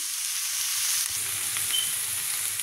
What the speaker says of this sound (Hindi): आतां हांवें फ्राय केला म्हाजो ऑनियन आनी हें प्रॉन्स